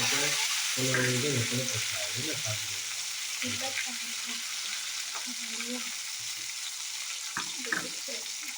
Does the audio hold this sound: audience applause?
no